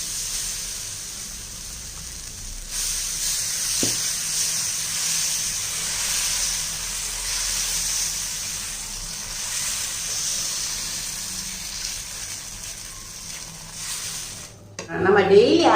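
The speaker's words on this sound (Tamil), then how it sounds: "இப்போ நான் உங்களுக்கு தோசை சுட்டு காமிக்கிறேன்" Dosa batter sizzling on an oiled pan over a gas stove kept on low heat: a steady, bright hiss and crackle that runs for several seconds at moderate loudness, with a clatter near the end.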